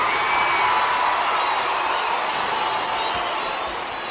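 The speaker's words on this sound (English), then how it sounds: "A tremendous crowd on hand." A large wrestling crowd at Boston Garden cheering in a steady, loud roar of massed voices and whistles that fades slightly toward the end, with no distinct talk over it.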